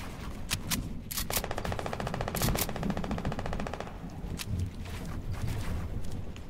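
Gunfire in a video game shooting down a turret: a sustained rapid machine-gun burst lasting a few seconds, framed by single loud shots before and after, over a steady low rumble.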